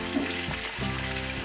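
Chicken necks deep frying submerged in hot oil, a steady dense sizzle and crackle filling the short clip, close and even with no pauses.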